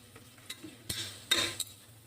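Ingredients for chicken biryani are sautéed and stirred in a pan, with a few sharp spoon scrapes and clinks against the metal over a faint sizzle, heard close and intermittent.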